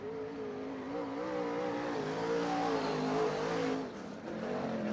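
Modified race car accelerating on a dirt track at the East Bay WinterNationals, its engine rising and wavering in pitch as it revs, fairly distant, with a brief dip near the end.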